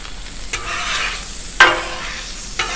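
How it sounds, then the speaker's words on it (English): Butter and oil sizzle on a hot Blackstone griddle, a steady hiss with a few sharp bursts as the fat spreads across the surface, close and alone with no talk. "Let's put a little butter down with it."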